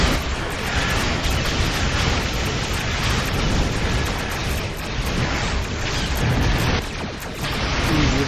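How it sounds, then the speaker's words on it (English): Continuous starship explosions in Star Trek Online space combat, a dense rumbling wash of booms and bursts sustained for eight seconds, loud and close with no talk. "given the incredibly best explosions going on"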